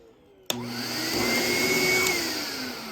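A Lindhaus Healthcare Pro EcoForce vacuum cleaner switches on abruptly with a click and runs with a steady, close motor whine and hum that rises slightly in pitch.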